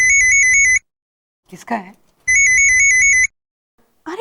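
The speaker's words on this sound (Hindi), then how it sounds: "मेरा फोन बज रहा है" A mobile phone rings in two loud electronic ringtone bursts, with a short spoken question between them and another voice starting at the end.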